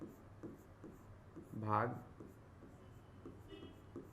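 Pen scratching out a class 10 maths solution on paper, faint soft strokes under someone speaking Hindi.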